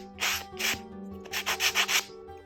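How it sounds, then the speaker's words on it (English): Wet sanding pad scrubbed over a wooden clay stamp to strip off white paint, a run of close rasping strokes: two long rubs, then five quicker back-and-forth passes in steady rhythm. "I'm going to take this and just get rid of this white paint or whatever it is on top of this"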